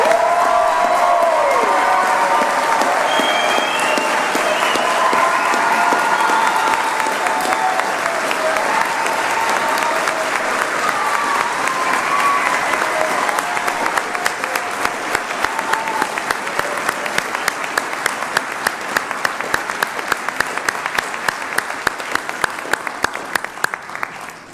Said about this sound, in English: Can we please give one last big round of applause for the class of 2023?